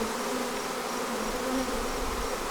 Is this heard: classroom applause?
no